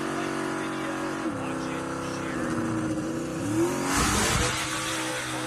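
A Ford Mustang engine growls in a steady, loud rev that climbs and falls, then surges in a harsh burst near the end, with a voice faintly under it.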